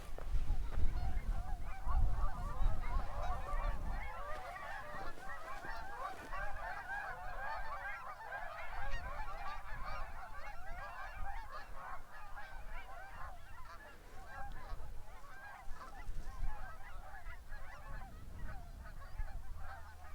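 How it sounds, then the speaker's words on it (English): Startled geese honk at a desert lake reservoir, a dense continuous chorus of many overlapping honks at moderate distance, with low wind and handling rumble beneath. "Nope, scared all the geese."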